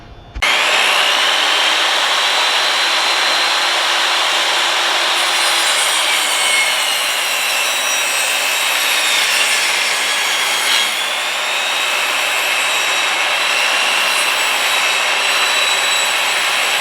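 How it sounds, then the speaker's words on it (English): Table saw ripping the edges off 2x6 wood boards for a butcher block countertop, a loud, steady whine running nearly the whole time after a sharp start, with no talking. "Now I'm gonna put these on the table saw and trim a little off of the sides."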